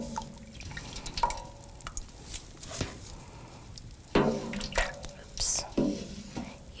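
Small pieces of wolf moss are scooped out of a dye pot of liquid, with close, intermittent drips, splashes and light scraping against the pot.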